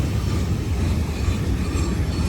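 Freight cars of a long Norfolk Southern train, over a mile in length, rumble steadily past a three-track railroad crossing, loud and close, a continuous heavy roll with faint clatter.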